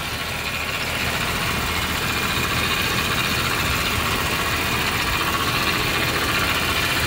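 A 1999 Jeep Cherokee XJ two-door, just started and running without a fan shroud, idles with a loud, steady, continuous rumble and fan whir and no breaks.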